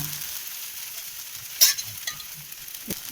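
Rava dosa batter poured onto a hot pan, a soft steady sizzle with a few brief scraping and pouring sounds, close and fairly quiet with no talking.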